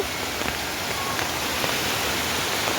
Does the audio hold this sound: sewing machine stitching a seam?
no